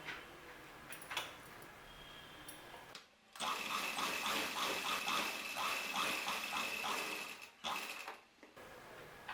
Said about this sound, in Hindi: अब हम ये सलवार का आसन सिलाई करेंगे